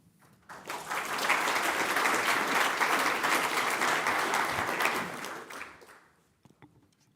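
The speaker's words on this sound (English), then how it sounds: "Please come forward while you hear your applause." Applause swells quickly from a conference audience welcoming a deputy mayor to a general assembly, holds full and steady for several seconds, then fades out, leaving a few stray claps.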